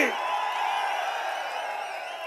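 A political rally crowd in Thoothukudi cheers and shouts in a continuous, steady roar, heard at a moderate distance without a break.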